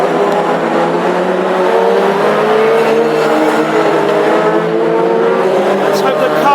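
Classic Hot Rod race cars racing at Northampton, a dense loud roar of several engines droning and revving continuously throughout, with a commentator talking over it.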